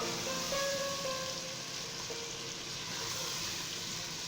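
Marinated chicken fries with onions in ghee, giving a steady, close sizzle with soft crackle that fills the whole moment evenly.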